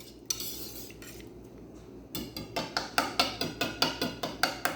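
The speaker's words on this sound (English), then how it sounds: "I'm just whisking this up good" An egg custard mixture is beaten by hand with a whisk in a bowl, giving close metallic clinks, light at first and then a steady rapid rhythm of sharp strokes against the bowl.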